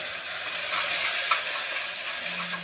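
Onion hitting hot oil in a pan while making chole masala, with cumin, garlic, curry leaves and bay leaf already in; a steady, bright, loud sizzle runs unbroken through the whole moment with no talking.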